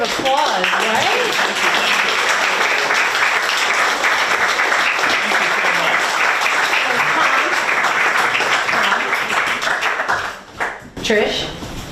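Sustained, loud audience applause after a poetry reading at an anniversary event, thick continuous clapping that dips briefly near the end, with voices mixed underneath.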